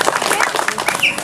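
An audience claps at a Balinese bondres comedy show performed at a temple ceremony, a brief dense patter of applause mixed with crowd voices.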